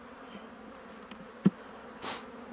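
Agitated honeybees buzz around an opened hive during colony work, a faint, steady hum with a few louder close bursts, no talk.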